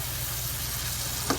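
Adobo sizzles steadily in a hot pan while being stirred, a dense close frying hiss with one brief louder scrape of the spoon near the end.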